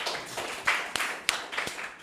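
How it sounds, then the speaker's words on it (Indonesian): A university class gives a student a brief round of scattered hand clapping, fairly quiet, with a few sharper individual claps standing out. "beri tepuk tangan dulu untuk teman saya"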